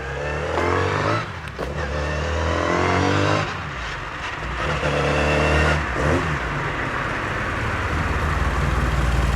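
A Classic Mini race and track car engine revs loudly and close by in a rough, continuous roar that rises and falls over several seconds, with a brief dip and sputter before it picks up again.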